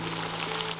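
Bright, crackling sizzle of turmeric-coated chicken deep-frying in hot oil, close and continuous, over a faint steady hum.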